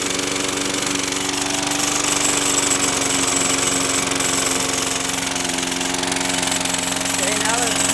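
A self-propelled lawn mower fitted with a home-built vaporizer valve runs at a steady, even drone with a constant buzzing tone and slight rattly vibration, loud and close throughout.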